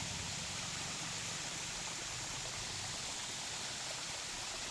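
A mountain stream cascading down in tiers from a hilltop, producing a dense, steady rushing and splashing wash that stays even and uninterrupted, with no voices.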